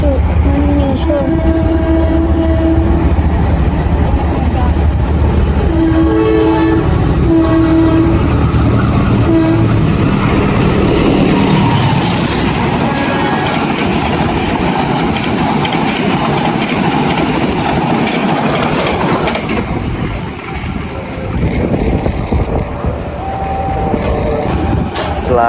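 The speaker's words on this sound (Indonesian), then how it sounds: "Sinyal di sana sudah menyala hijau, artinya akan ada kereta melintas langsung dari arah sana." A train rushes past near Kosambi station in Indonesia, loud and close, with a horn blast and rhythmic clattering wheels fading as it passes.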